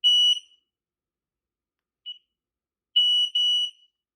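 A home alarm system keypad beeps while its alarm memory is cleared: one long tone, a short blip after a pause, then two longer beeps close together, clear and alone in a quiet room.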